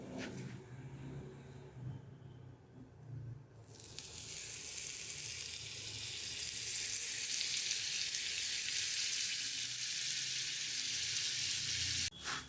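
Butter sizzles in a pan under a sweet potato paratha: a quiet start, then a loud, dense, steady hiss that keeps building, close up, with a clatter at the very end and no voices.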